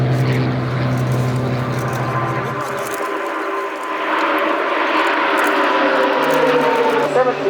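A Pakistani-painted C-130 transport aircraft flies at an air show. Its propeller engines make a loud, steady drone with some shift in tone as it passes, and a voice talks over it throughout.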